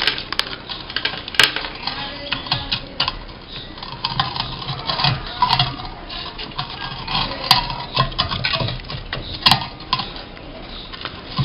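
Leftover damp soil mixed with gravel is poured into a Ficus virens bonsai pot, a continuous close gritty rustle and patter with small stones clicking.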